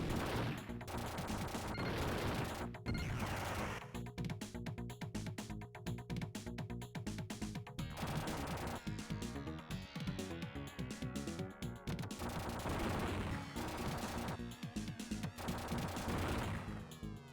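Rapid bursts of video game gunfire crackle in quick repeated volleys, layered over steady in-game music with no talking.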